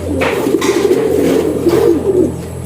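Pigeons kept separated from the other birds coo in low, rolling, repeated calls, close and loud, overlapping continuously with no talk.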